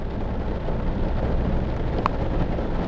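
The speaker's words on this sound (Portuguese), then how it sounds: "Ui, que chuvinha." Steady soft patter of light rain, heard from inside a Ford Ka while driving, a continuous even hiss with no talk over it.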